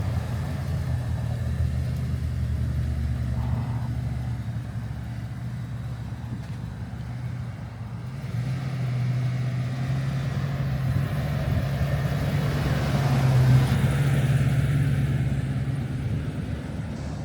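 A 1972 Monte Carlo's engine runs steadily at idle with no exhaust fitted, a loud, continuous low rumble that dips briefly and then swells a little louder toward the end.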